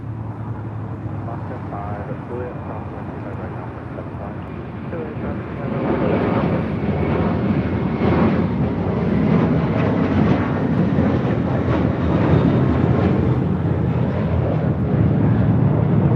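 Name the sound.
JetBlue Airbus A321 airliner taking off at LAX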